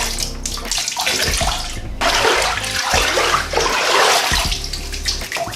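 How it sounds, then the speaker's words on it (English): Water sloshing and splashing in a bathtub full of water as iodine sanitizer is mixed in, a steady close, continuous wash of water movement with small shifts in intensity. "we are going to put the recommended ratio of sanitizer, that is iodine, to water in here."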